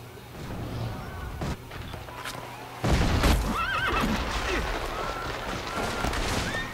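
A horse whinnies sharply in the video game Assassin's Creed Brotherhood, amid a busy, noisy scene with hoofbeats and background clatter, a voice briefly audible.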